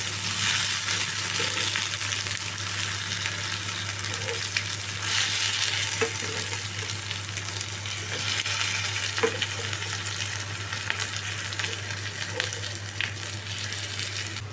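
Eggplant slices fry in a pan after being flipped, making a continuous dense sizzle with occasional soft pops and spatula taps over a low steady hum.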